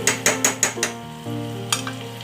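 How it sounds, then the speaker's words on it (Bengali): Chicken is stirred with spices in a pan for a Bengali red chicken curry, with a quick run of five rhythmic scraping strokes, a pause filled with low sizzling, then one more stroke, close and clear. "মশলাটার সাথে চিকেনটাকে ভালো করে মিক্স করে আবার আমরা এটাকে সেদ্ধ হতে দেবো"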